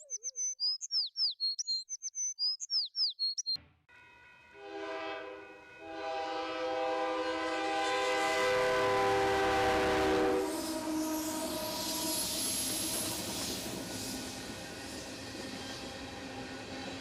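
A train rushes past a crossing, rumbling loudly and steadily for most of the stretch as a long horn blast sounds over it, after a few seconds of birds chirping in quiet surroundings.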